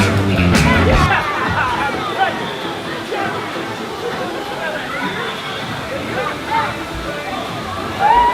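A yellow water slide in a cruise-ship water park aboard the Carnival Vista splashes and sloshes steadily, with rushing water under background crowd chatter and occasional louder splashes.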